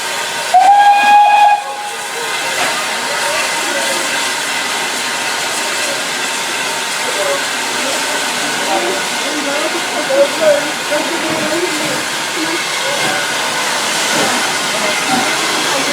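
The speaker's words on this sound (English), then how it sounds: "Time for the train to go." A steam train on the Kent and East Sussex Railway sounds a short, sharp whistle, then departs under a steady loud hiss of steam with faint chuffing and clanks throughout.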